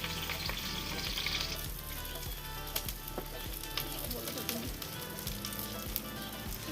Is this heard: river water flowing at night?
no